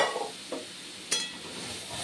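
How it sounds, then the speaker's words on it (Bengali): Mung dal poured into a pan of fried grated coconut and ginger, giving a quiet sizzle with a few soft splashes and stirring sounds, close and faint, without talk. "তো এইবারে নারকেল, আদা সবই ভাজা হয়ে গেল, ডাল ঢেলে দিলাম।"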